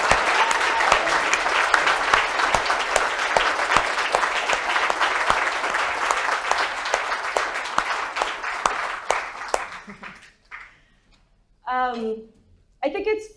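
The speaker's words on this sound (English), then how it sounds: "could we maybe just have a round of applause for all of the workers who are busting their asses tonight?" Indoor audience at the grand opening of Red Emma's applauding the workers, a full sustained round of clapping that fades out around ten seconds, followed by brief speech.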